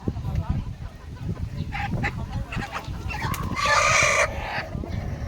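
Chickens cluck and squawk amid constant commotion and voices, with a louder burst of fowl calls near the end.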